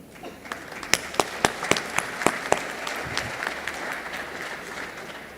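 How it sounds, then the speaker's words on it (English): A conference audience at a military land forces summit claps for a translator, a brief burst of sharp claps that peaks early and then thins into a softer scattered patter in a large hall. "What you have done is just applauded our translator here."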